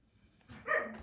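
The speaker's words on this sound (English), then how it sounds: "Apologies for the dog there." A dog barks once or twice in the background of a room, a brief mid-loud yelp rising after a quiet stretch, with no talk over it.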